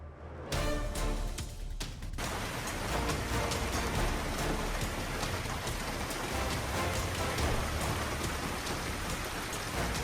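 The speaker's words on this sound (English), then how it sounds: "A bright lightning bolt split the sky over West Virginia, briefly illuminating the landscape during a strong thunderstorm." A strong thunderstorm in West Virginia brings heavy, steady rain pattering loudly and continuously on surfaces, beginning abruptly with a brief crack near the start.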